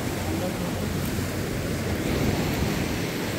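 Sea waves wash onto the shore during coastal cast-net fishing, a steady close roar of surf mixed with wind buffeting the microphone and no clear individual breaks.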